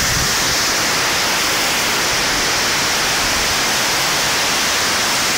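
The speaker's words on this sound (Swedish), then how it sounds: "Det är vattenfall som ni såg här som byggt i alla fall." An artificial waterfall in a western-themed park at a casino gives off a steady, loud, broadband rush of falling water that continues unbroken throughout.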